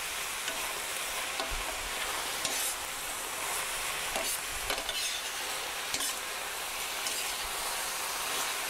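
Food frying in an oiled pan during Italian home cooking, a continuous close sizzle with scraping and clacking as it is stirred at intervals.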